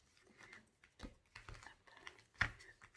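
A deck of oracle cards is cut and shuffled by hand, giving a few soft, quick papery taps and slides. The sound is close and quiet, with one sharper snap near the end.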